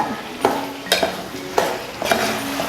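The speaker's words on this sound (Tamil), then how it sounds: "சிக்கன் வந்து எண்ணெயில் இப்படி வதக்கும் போதே நல்லா வெந்துடும்" Chicken sautés in oil in a pan for a chicken gravy, a close sizzle punctuated by four evenly spaced spatula scrapes and knocks against the metal.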